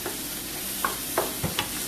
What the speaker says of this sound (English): So we're just sauteing some bacon here